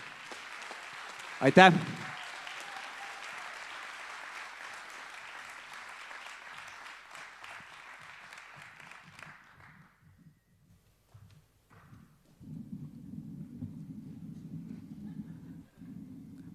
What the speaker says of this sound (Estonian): Õnnitleme veel kord ühe vägeva aplausiga kõiki, kes said endale ühe auhinna või mitu.